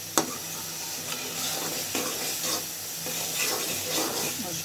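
Ground spices, chili, turmeric, cumin and salt, sizzling as they are sautéed in a pan for katla fish dopiaza, a steady close hiss and fry with occasional stirring scrapes and clinks.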